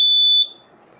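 A smoke alarm sounds a single loud, piercing high tone for under half a second after butane gas reaches its sensor, then falls to quiet background.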